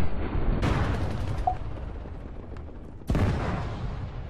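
Gunfire in Arma 3 during a King of the Hill match: two sharp, loud shots about two and a half seconds apart, each decaying into a long rumbling echo over steady ambient noise.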